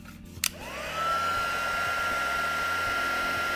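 After a couple of small taps, a heat gun switches on over embossing ink on an inked card scene and blows a steady, close whirring hiss with a faint high tone until the end.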